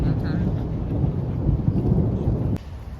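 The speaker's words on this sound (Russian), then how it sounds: "А, все, пошел гром." Rolling thunder over steady rain at an amusement park in Moscow's VDNKh, a broad continuous rumble that cuts off abruptly near the end, no talk.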